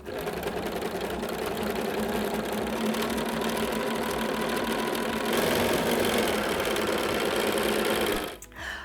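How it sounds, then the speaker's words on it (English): A sewing machine stitches rows of a star-block quilt together, its steady rapid motor whir and needle chatter running continuously and close before stopping abruptly near the end. "And then I will put it in the machine and sew."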